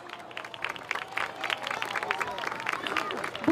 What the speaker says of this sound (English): Let's give these senior football players another round of applause.